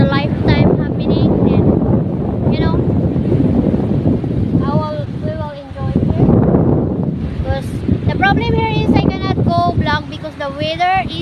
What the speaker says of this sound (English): The weather is really windy